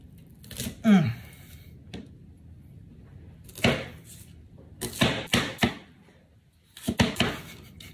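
A very sharp kitchen knife slices through onions on a cutting board: sparse, crisp thunks and cuts, sometimes in quick clusters of three or four, separated by quiet pauses.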